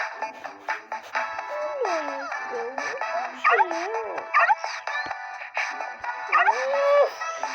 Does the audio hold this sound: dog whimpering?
yes